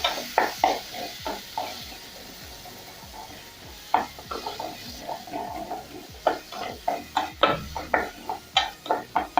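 Rice and salt go into a pot of toasted pilau masala, giving a run of scraping stirs and clinks of a utensil against the pot over a soft sizzle, with rhythmic taps that grow sharper toward the end.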